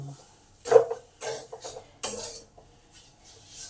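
Utensil scraping and clinking in a pan while stirring a moringa drumstick paratha filling seasoned with lemon juice, several short separate bursts of metallic scraping at close range with pauses between them.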